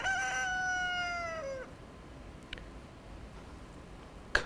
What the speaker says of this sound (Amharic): ዶሮ ጮኸ።